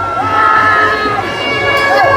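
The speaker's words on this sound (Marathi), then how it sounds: "पहिल्याच काठीला बघताय फुल जल्लोष चालू आहे." A dense crowd cheers and shouts at the Raibadevi palkhi procession, a festive village tradition with packed galleries. The noise is loud and continuous, with whistles and shrill voices rising over the throng throughout.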